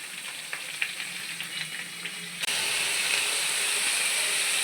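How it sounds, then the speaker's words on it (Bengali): Beans, carrot, peas, coconut and cauliflower are stir-fried in a pan, giving a close, steady sizzle with light scraping clicks from stirring. The frying jumps abruptly louder and hissier about halfway through, and no one talks. "ভালোভাবে আমি কষে নেবো।"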